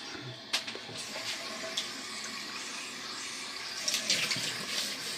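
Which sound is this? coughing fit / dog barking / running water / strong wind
running water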